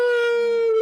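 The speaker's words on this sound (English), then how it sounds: "Yeah, he's howling in the back." A dog howls in the background, one long, steady, sustained note that carries clearly with no talk over it.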